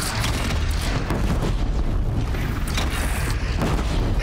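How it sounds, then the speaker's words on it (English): Grenade launcher blasts in the video game Horizon, loud booming explosions and rumbling bursts packed close together over a short, dense stretch. "it's a really badass grenade launcher"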